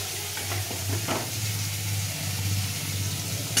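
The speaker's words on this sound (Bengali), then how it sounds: "আর এখানে কিছুটা মাছ ভাজছি, ছোটো মাছগুলো" Small fish frying in hot oil, a steady close sizzle with a low bubbling undertone and occasional faint clinks, no voices.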